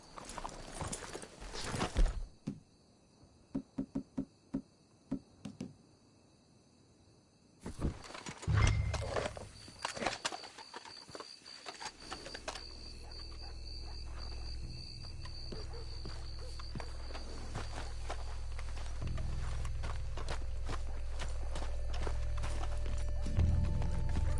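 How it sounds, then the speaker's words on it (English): Video game horse hooves clop in a quick, uneven rhythm early on, followed by a snort, then fade as a low rumbling drone builds steadily. "Let's hitch the horses up ahead."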